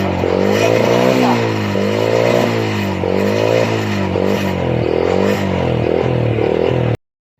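A Honda Wave 100 motorcycle engine labours loudly and steadily, its pitch rising and falling in repeated strained surges as it struggles to gain speed, cutting off abruptly at the end.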